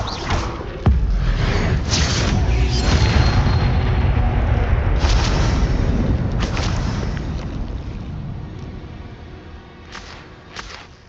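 Incendio fire spell cast in the video game Hogwarts Legacy, a loud sustained whooshing, rumbling blast with several sharp bursts flaring up over a steady roar that slowly fades.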